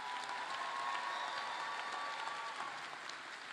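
Graduation ceremony audience applauding, a steady dense wash of clapping from a large crowd that holds at an even level throughout, with no voices standing out.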